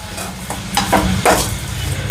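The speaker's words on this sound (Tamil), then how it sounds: "இப்போ வந்து இதை லைட்டாக வதக்கிடலாம் வதக்கின உடனே வந்து புதினா ரொம்ப கம்மியாகிடும்" Mint leaves with rock salt lightly sautéed in a pan for chutney, a steady broadband sizzle with periodic scraping stirs of a utensil against the pan.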